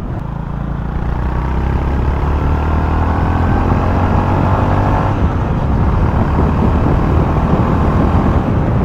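A 2025 Honda GB350S motorcycle engine runs steadily and loudly up close while riding, with a brief dip in its drone about midway that could be a gear shift.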